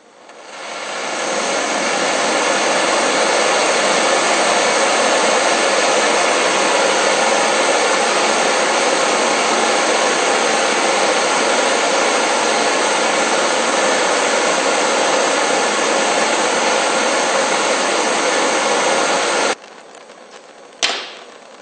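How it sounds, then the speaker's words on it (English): Homemade furnace burner fitted with a longer tube, roaring with a loud, steady, broadband rush for nearly twenty seconds, then cutting off abruptly and followed by a brief sharp hiss. "Here it is assembled with the longer, newer tube, and it burns much better."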